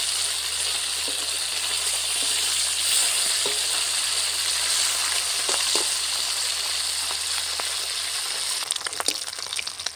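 Constant hissing sizzle of fish heads (pabda) frying in oil as they are turned, with a few scraping stirs and clinks, and a burst of louder spattering near the end.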